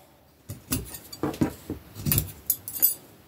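Scissors trimming denim straps on the back of an upcycled jumper dress, giving a series of quiet crisp snips and rustles of fabric, close and fairly soft, with no talking.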